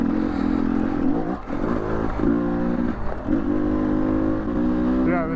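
A vehicle's engine drones and rises in pitch, dipping briefly at each gear change in a repeating pattern, close and fairly loud.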